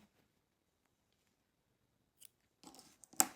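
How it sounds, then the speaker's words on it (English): Scissors snip through crochet yarn after near silence, a few faint handling clicks followed by a short, close cutting sound and a sharp closing snap. "I'm just going to cut my yarn"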